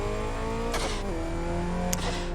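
A Bugatti EB110SS engine in the Test Drive Unlimited 2 racing game drones steadily at high revs. The pitch drops sharply twice through quick gear shifts, with a faint tyre squeal.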